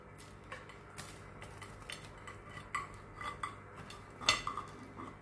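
Knife and cutlery clinking on a plate as a baked pissaladière is cut at the table, several light scrapes and taps close by, one sharper clink near the end, no voices.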